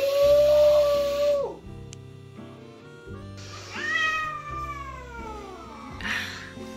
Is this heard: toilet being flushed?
no